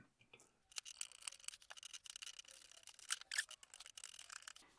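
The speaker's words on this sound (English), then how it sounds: "Let's just see if we can pilot another screw through there to clear the thread out a bit." A screw is worked by hand through a worn thread in a carburetor body to clean it out, giving close, quiet, rapid scraping and grinding in short uneven bursts with brief pauses.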